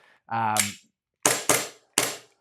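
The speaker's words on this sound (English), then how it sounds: "The noise of it's kind of cool, but it's not in any way my favorite pistol." Three sharp, snappy airsoft pistol shots crack close by, two in quick succession then one more, after a brief mechanical clack.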